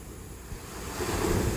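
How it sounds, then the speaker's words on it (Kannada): Loud ocean waves surge onto a beach at a Kannur resort, a continuous roaring wash of surf that swells stronger toward the end, with some wind across the microphone. "ಅಲೆಗಳು ಸೋರಾಗಿ ಹೆಬ್ಬರಿಸಿದ್ದಾವೆ"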